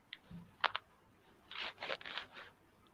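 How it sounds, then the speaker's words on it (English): Faint, crunchy rustling like a dry leaf being crushed comes in a few short, scattered bursts against a quiet room, with no talking. "It's like a crunchy rustling noise. Leaf? Yeah, like a leaf."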